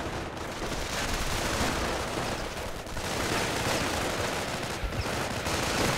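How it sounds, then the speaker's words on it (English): Sustained, dense machine gun nest fire in the World War II strategy game Company of Heroes, a loud unbroken rattle with bursts of gunfire and blasts layered throughout. "Oh, they got a machine gun nest up there!"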